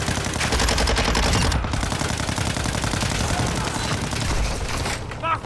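Sustained automatic gunfire in the video game DMZ Warzone 2.0, a loud, rapid fusillade of overlapping shots close by, with a brief lull midway and speech faintly mixed in.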